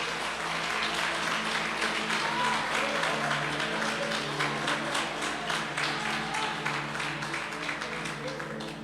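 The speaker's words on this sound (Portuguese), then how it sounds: "Pode aplaudir o Senhor." A church congregation applauds during an evangelical sermon on the joy of salvation, dense sustained clapping at moderate distance with a steady hum underneath.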